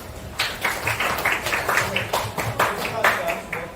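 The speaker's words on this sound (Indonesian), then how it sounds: "Tepuk tangan untuk kalian semua" A classroom of students claps together in a quick, rhythmic burst of steady slaps lasting a few seconds, with voices mixed in.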